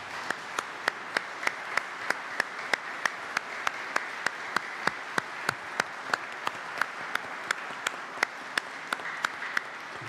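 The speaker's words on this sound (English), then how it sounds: "turn to the partner and give a huge round of applause" Sustained applause from a large crowd at a college graduation ceremony fills the whole stretch, with a sharp, regular clap standing out on top.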